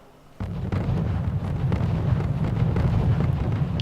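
Mortars firing in the war strategy game Wargame AirLand Battle, heard as a sudden loud burst followed by a rolling barrage of booming low thuds and rumble that stays dense and forceful to the end.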